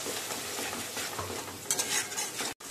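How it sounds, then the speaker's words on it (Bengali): A spice mixture for potol chingri fries and is stirred in a wok, a steady close sizzle with scraping stir strokes throughout and a brief cut near the end. "দিয়ে এই মিক্সচারটা খুব ভালো করে কড়াইতে মেশাতে হবে"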